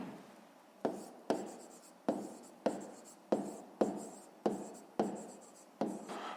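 Handwriting with a pen on paper during a Ukrainian fifth-grade maths exercise, heard as a steady series of about eight short scratchy strokes, each starting sharply and fading, close and fairly quiet with no talk.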